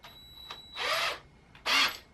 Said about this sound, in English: How many times have you guys watched me drill holes into walls at this point?